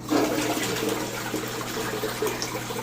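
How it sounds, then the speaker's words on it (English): A hotel bathroom toilet at a Lake Buena Vista resort flushes with a steady rushing, gurgling wash of water close by that holds for about three seconds without talking. "We'll just flush the loo there so you can see it working."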